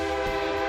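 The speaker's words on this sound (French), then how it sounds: "C'est un klaxon qui vient d'origine d'un train CN." A pickup truck fitted with an air horn taken from a CN train sounds one loud, sustained, steady chord blast lasting the whole moment, full and up close.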